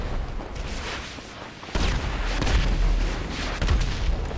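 Gunfire and explosions in GTA 5 Online: a quieter rumble, then a sudden heavy boom opens a loud stretch of thudding blasts, with another strong hit near the end.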